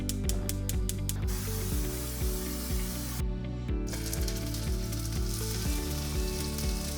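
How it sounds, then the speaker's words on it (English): Shrimp and ramen pan-frying in low-fat spray oil, with a rapid series of short spray bursts at the start, then a continuous loud sizzle that carries on steadily with no speech. "I'm gonna pan fry it with just like the spray low-fat oil"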